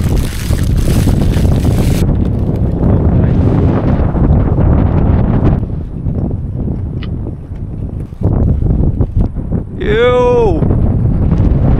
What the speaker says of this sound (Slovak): No, fúka dobre.